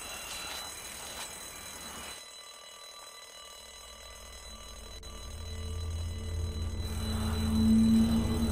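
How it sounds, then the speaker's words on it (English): Alarm sounding in The Walking Dead video game, a steady electronic tone looping under game ambience that swells louder toward the end. "There's a damn alarm."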